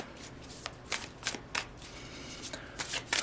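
Muse Tarot cards being shuffled and handled for a reading, quiet papery riffles and soft slaps coming in several short bursts, close and alone without talk.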